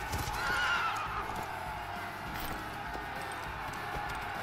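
A horse neighs during a battle in the Sons of Valhalla video game, a brief whinny near the start over steady loud game noise and rumble.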